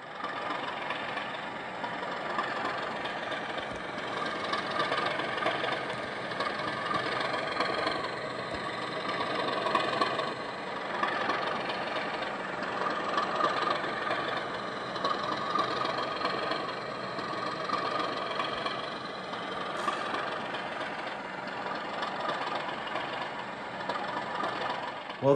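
A Bachmann Class 37 model diesel locomotive's sound unit gives a steady, moderately loud engine idle with a rough, knocking drone that holds evenly throughout, with no voices.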